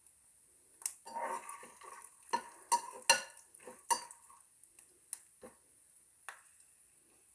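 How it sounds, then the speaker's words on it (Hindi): Almonds are lightly fried on a low flame for flaxseed laddoos: a faint, quiet hiss sits under sparse spatula scrapes and clinks against the pan, with irregular stirring strokes. "बादाम को हमने हल्का ही फ्राई करना है, कम आंच पर"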